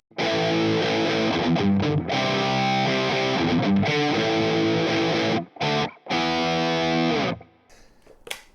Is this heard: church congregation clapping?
no